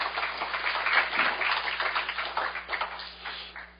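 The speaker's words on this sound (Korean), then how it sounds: "발표를 해주신 우리 퍼트 위원장님께 다시 한번 박수 부탁드리겠습니다" An audience at a presentation on public safety and corporate liability applauds the presenter with a steady patter of many hands clapping throughout, close and moderately loud.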